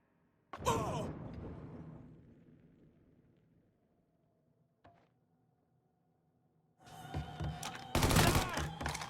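Gunfire in the Mafia III: Definitive Edition video game, with a sharp burst at the start that fades out, a lone faint shot midway, and then a loud, dense fusillade at the end.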